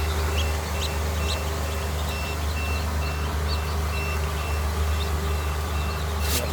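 Newly hatched Pekin ducklings in an incubator peep in faint, repeated high chirps over a steady machine hum.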